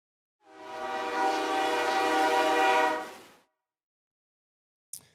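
A recorded train horn blasts one long, loud, sustained chord for about three seconds, then cuts off into silence before a brief click at the end.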